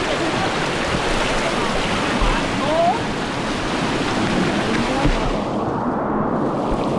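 Pagsanjan Falls water rushes and splashes in a dense, loud, continuous roar close by, with voices faintly mixed into the churning spray.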